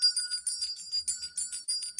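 A meditation bell chimes with bright, high tones, struck repeatedly in quick, rhythmic succession. The ringing is close and clear, with no talking over it.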